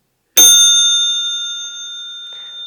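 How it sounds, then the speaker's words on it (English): A Crane bicycle bell from Japan rings once, loud and close, its warm metallic tone sustaining and slowly fading over a couple of seconds with no other sound. "this is a lovely bell. It has a very, very warm tone"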